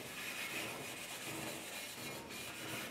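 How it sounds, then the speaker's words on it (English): Scratch pad rubbed over an aluminium bandsaw fence on a BS350 bandsaw, a steady, close, continuous scouring rasp with no pauses, heard alone without any talking. "If you've got one of these like scratch pads, just give it a rub with that as well."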